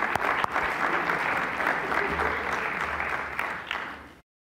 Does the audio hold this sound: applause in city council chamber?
yes